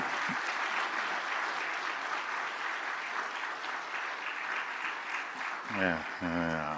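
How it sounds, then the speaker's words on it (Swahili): Sustained applause from an audience at a formal ceremony where a commission's report is handed to the President of Tanzania, a dense steady roar of clapping that fills the space before a voice begins speaking at the end. "Makofi mengi"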